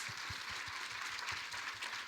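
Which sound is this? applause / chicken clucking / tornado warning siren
applause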